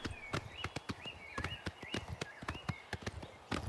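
Horse hooves clip-clop at a steady walking rhythm while riding in Oblivion Remastered, a dozen close, sharp thuds repeating evenly with a faint tonal game ambience underneath.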